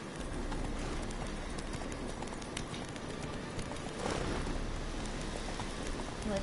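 Horse hooves clip-clopping steadily during riding in the video game The Witcher 3, a continuous rapid patter of hoofbeats under a rain-like wash of ambient noise, with no talk.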